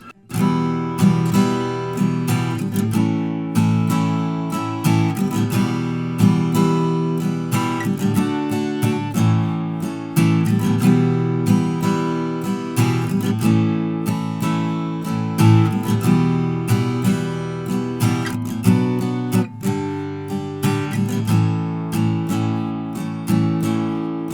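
A guitar strums the bridge chords in a steady rhythmic pattern for a long stretch, changing chords every few beats, with no voices.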